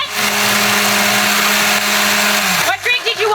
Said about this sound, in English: And then do the blender thing.